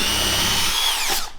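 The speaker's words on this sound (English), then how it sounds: "we'll just take an 8mm bit and drill it out" A power drill with an 8mm bit bores out a marked hole for cutting a circle, a loud, close whine that holds steady and then spins down and stops.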